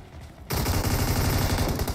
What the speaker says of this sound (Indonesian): Iya, tadi ada tembakan pakai DP kan